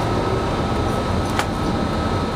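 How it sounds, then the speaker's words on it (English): Chicago elevated L train rumbling steadily overhead downtown, a continuous loud broadband roar with a brief sharp screech partway through. "under the L, the elevated train"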